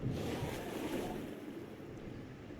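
Faint, steady wash of sea waves and wind as a boat moves through the water in a Lovecraftian mystery video game, a soft continuous rush with no talk.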